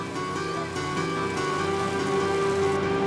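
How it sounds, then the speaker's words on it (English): Heavy Midwest rain falls steadily on an already saturated landscape, a continuous wash of drops with a low tonal layer running beneath it. "But the rain keeps coming."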